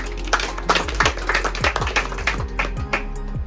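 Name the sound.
audience applause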